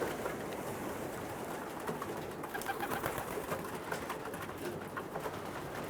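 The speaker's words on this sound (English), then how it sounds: "There's always been pigeons there." Pigeons coo steadily at a family pigeon loft, soft throaty calls repeating over a constant low background hum, close and continuous with no talk.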